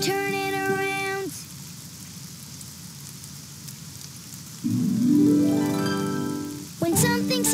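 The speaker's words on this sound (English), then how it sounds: "Oh, it's raining outside." Rain patters steadily in the Daniel Tiger's Neighborhood children's video game, a soft continuous hiss that sits between bright musical tones and chimes at the start and end.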